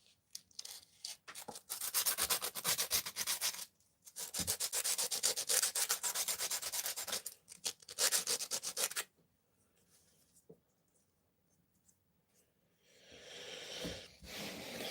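Copper sanded by hand with sandpaper at a guitar workshop: long rapid back-and-forth scratchy strokes in two loud bursts, then near silence and a softer rubbing return at the end, close up with no talk.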